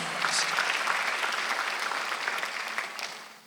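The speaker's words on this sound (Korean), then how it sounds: "박수 하나 드려서" A church congregation gives brief applause during a Sunday worship service, a soft, even wash of clapping heard at a distance that fades out after a few seconds.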